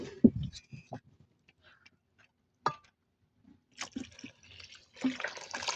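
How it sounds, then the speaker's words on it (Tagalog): Water is poured into a maja blanca mixture, with a few short splashes and drips, brief clinks and quiet pauses between them, then a longer rushing pour near the end. "Ilagyan na ng tubig."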